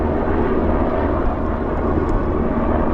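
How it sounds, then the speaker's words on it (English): Military helicopters pass overhead during a countryside ride, a loud, continuous, rumbling engine and rotor drone that fills the whole moment without letting up. "Whoa, helicopters. That's a military."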